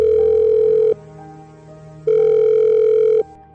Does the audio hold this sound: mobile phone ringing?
yes